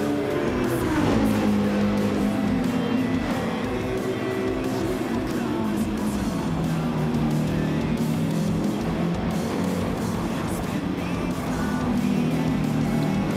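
Race cars roar through a Gran Turismo 7 race behind a defending Audi, with continuous engine drone that rises and falls in pitch as gears change and tires occasionally squeal.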